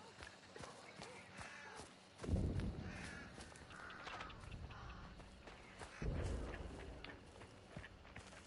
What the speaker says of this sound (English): Oh, not more birds.